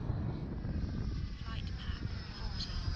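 A 12S electric-ducted-fan F-16 model jet makes a pass overhead with a steady rushing whine at moderate distance, against wind noise in the open.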